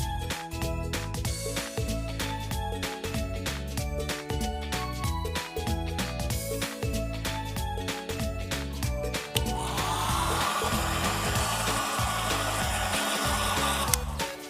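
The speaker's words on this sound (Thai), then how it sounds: "จากนั้นก็ค่อยๆเป่าไดร้อนอีกทีหนึ่งนะครับ" A hair dryer drying a guinea pig's fur switches on partway through, giving a steady airy whoosh that continues under a beat-heavy music track.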